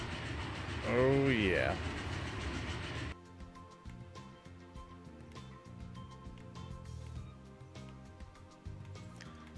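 Trains running in the factory-building video game Captain of Industry, a steady mechanical rumble with regular clicking rail beats after a brief spoken interjection, the rolling clatter continuing alone for several seconds.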